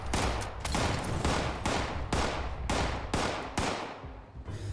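Rapid gunfire in Fallout 76, a dense series of about eight loud bursts at regular intervals, each with a crackling tail, close and continuous with no voices.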